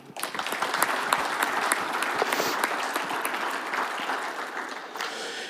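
An audience at a regional lumber association meeting breaks into applause to welcome a speaker, a burst of many clapping hands that starts suddenly, holds steady and loud, then slowly thins out.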